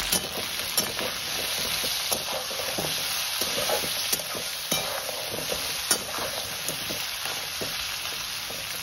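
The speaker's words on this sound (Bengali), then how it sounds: "এবার আমি কাঁকড়াগুলোকে একটু তেলের মধ্যে নাড়াচাড়া করব" Crab pieces stirred in hot oil for a spicy crab curry, with constant frying sizzle and regular scraping, knocking strokes of a spatula against the pan, close and without any voices.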